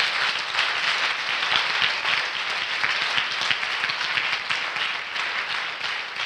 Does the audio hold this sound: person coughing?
no